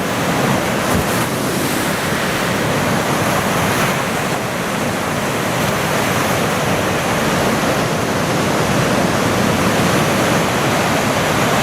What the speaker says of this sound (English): you got two different directions, waves crashing in